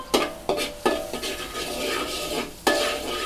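Garlic stir-frying in oil in a pan over fairly high heat for pad see ew, with a steady sizzle broken by several sharp scraping stirs of a spatula, close and fairly loud, no voices.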